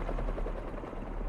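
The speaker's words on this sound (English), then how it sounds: "a helicopter's blades." Helicopter rotor blades thrum in Marvel's Spider-Man 2, a steady low pulsing drone that fills the short stretch at an even, moderate level with no voices.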